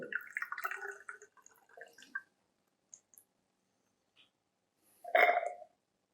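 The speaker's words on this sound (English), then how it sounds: "carefully I will add water" Water is poured into hydrochloric acid in a glass volumetric flask, giving a short stretch of trickling, gurgling splashes followed by a few faint drips and one brief louder glug.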